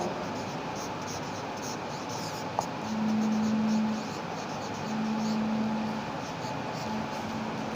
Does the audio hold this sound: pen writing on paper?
yes